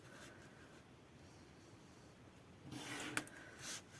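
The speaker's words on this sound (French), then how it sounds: "eh bien on vient marquer les plis." Cardboard fold lines being scored for a pop-up craft box: a quiet room, then a short, faint scraping and rubbing near the end, with one sharp tick.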